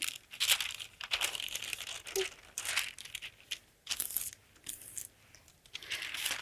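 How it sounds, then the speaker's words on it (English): Tracing paper being folded, giving close crinkling and crackling rustles in bursts with brief pauses, fairly soft and intimate. "I can fold my tracing paper"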